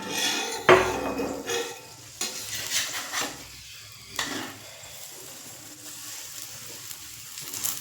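Spinach paratha frying in a pan with a little oil added over raised flame, heard as a soft continuous sizzle with clinks of a utensil and pan, one sharp knock near the start; no talking.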